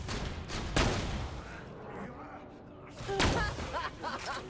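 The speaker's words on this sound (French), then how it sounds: "Je tire dessus." Gunfire in the shooter game Borderlands: The Pre-Sequel crackles in bursts and thuds, with a louder volley near the start and another near the end, mixed with game effects and some voice.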